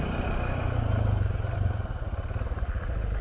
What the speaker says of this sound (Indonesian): Ih, ada motor apa ya?